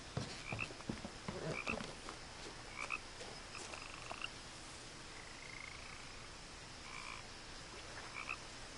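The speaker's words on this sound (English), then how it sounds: "I hear frogs." Frogs croak repeatedly in short chirpy bursts over a steady hiss of night ambience in the video game What Remains of Edith Finch, with a few soft thumps early on.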